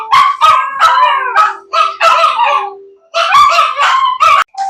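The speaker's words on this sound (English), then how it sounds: "the dogs were howling" Several dogs howl loudly and close by in a home kitchen, long wavering wails overlapping in bursts with brief gaps, no talking.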